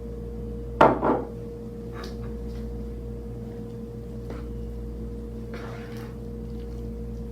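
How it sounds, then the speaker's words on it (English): A utensil stirs lemon juice, oregano and fresh basil into a zucchini edamame stew in a pot, with a sharp clatter of metal against the pot near the start, then a few faint taps and scrapes over a steady hum. "now we're going to stir in the lemon juice, the oregano, and our wonderful fresh basil"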